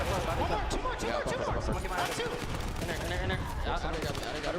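Gunfire in a Call of Duty esports match: dense, continuous shots mixed with game sounds, loud throughout and layered under excited voices.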